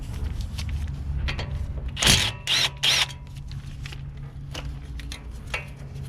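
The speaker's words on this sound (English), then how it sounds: "Next, you're gonna wanna undo this 10mm bolt." A ratchet loosens a 10mm bolt on the brake caliper of a 2014 Ford F150, three sharp clicking bursts close together mid-clip, with quieter mechanical handling noises around them.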